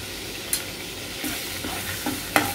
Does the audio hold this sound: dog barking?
no